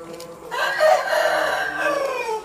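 An Aseel parrot beak rooster crows once, a drawn-out, close and loud call of about two seconds with a hoarse, wavering tone.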